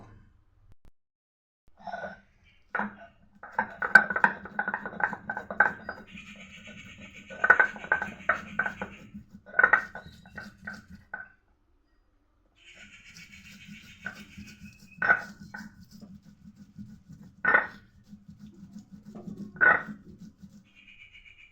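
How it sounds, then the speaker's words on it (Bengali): Cumin and a few pieces of ginger being ground together on a shil-pata grinding stone, heard as rhythmic scraping strokes in bursts with short pauses, close and moderately loud. "দেড় চামচ জিরে নিয়ে নিলাম সাথে কয়েক টুকরো আদাও নিয়ে নিলাম একসাথে বেটে নেব"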